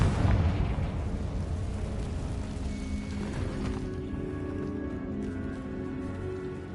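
A Confringo fire spell bursting in Hogwarts Legacy, one loud rumbling explosion at the start that decays into a long, fading roar.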